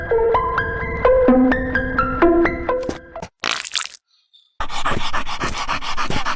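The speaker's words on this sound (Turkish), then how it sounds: "Köpek geliyor." A dog pants loudly and rhythmically up close, with a burst of harsh noise and a brief silence before the rapid breathing resumes.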